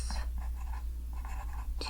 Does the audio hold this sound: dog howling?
no